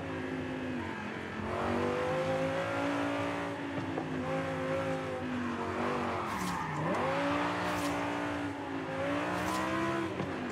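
A rally car in the Forza Horizon 5 video game, its engine revving up and down in sweeping pitch changes with tire squeals and skidding as it drifts, loud and continuous throughout.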